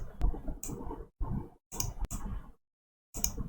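Mouse clicks while working in an Excel spreadsheet, a handful of short separate clicks spaced irregularly, close and fairly clear with quiet gaps between them.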